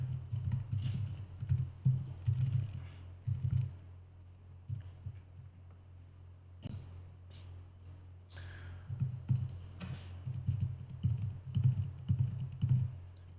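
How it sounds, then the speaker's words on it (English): Typing on a computer keyboard while entering email content, with dense bursts of key clicks in steady runs, a brief pause midway, then more continuous typing, close and clear with no talking. "I'm going to type in my content here."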